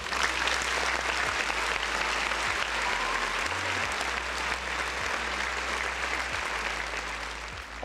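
A round of applause, dense steady clapping from many hands that fills the whole stretch at moderate level without anyone talking.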